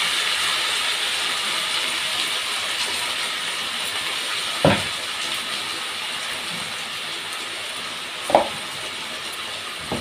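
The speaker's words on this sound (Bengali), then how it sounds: "আলুটা ভাজছি।" Potatoes fry in a pan in a home kitchen, a steady broad sizzle throughout with two brief sharp clinks of utensils.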